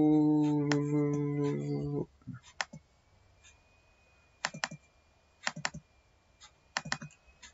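Keys clack on a computer keyboard in short clustered bursts after a few seconds of someone speaking, the typing crisp, close and separated by quiet pauses.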